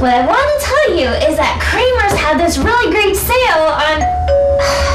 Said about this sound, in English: That wasn't me. That was the doorbell.